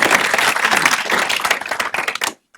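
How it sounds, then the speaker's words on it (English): A meetup audience claps for a speaker at a Netflix automation talk, a dense, even burst of applause lasting about two seconds before stopping abruptly into silence. "So let's have a round of applause for Brett."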